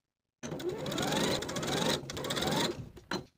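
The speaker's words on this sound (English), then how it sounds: "Now I'll sew this center back section in place with a 1/4-inch seam allowance." A sewing machine stitches the center back section of a shirt, a close steady whirring run of about two seconds, a brief pause, then a short final burst, with no speech.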